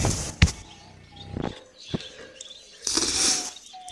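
White Bengalese finches in an aviary give brief scattered chirps and tweets, with a couple of sharp wing-flap bursts and rustles, close by and moderately loud, with no one speaking.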